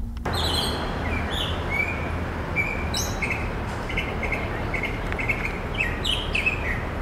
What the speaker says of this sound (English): the birds that chirp outside of your window